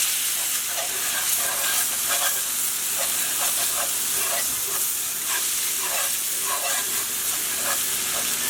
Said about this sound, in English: You need to use a whisk of this.